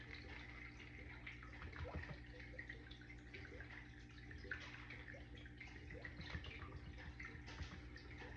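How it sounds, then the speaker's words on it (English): Green liquid is poured back into a container while making car vent fresheners, giving a soft, steady trickling and splashing wash that runs evenly throughout, with no talk. "now we're gonna pour these back in"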